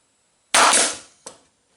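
A nail gun drives a 2.5-inch finishing nail into the wooden cross spokes of a water wheel: one sharp, loud bang followed by a smaller knock, with no other sound around it.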